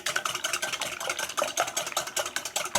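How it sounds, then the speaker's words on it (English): Eggs whisked in a bowl, a fast steady clatter of the whisk against the sides, close and moderately loud with a quick regular rhythm and no talk. "Now I'm going to whisk these up"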